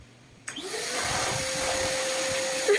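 A wet and dry vacuum cleaner switched to blower mode starts up abruptly and settles into a loud, steady whine and rushing airflow, close to the microphone, with a brief bump in level near the end.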